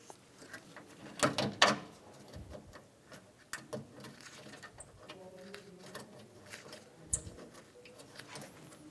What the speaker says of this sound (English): Install the top bolts for the condenser.